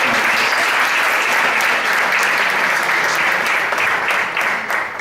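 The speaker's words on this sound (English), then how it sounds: "So I would like to ask you kindly to make an applause for the American staff." An audience at an education forum applauds the staff with loud, dense, continuous clapping that holds steady for several seconds and then begins to thin slightly toward the end.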